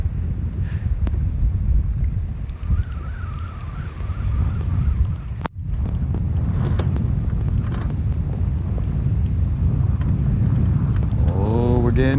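Steady wind gusting over Lake Guntersville, heard from a bass fishing boat, loud and continuous with rumbling buffeting at the microphone and a brief knock midway.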